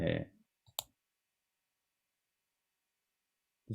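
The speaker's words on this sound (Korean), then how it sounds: "그리고 얘도 더블 클릭." Two quick clicks of a computer mouse while working in an Excel spreadsheet, close and crisp, followed by a long silence, with a brief voice fragment at the start and another at the end.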